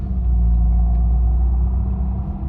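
Low, steady engine rumble from inside a car as it gathers speed during a driving lesson, a constant droning hum with no talking.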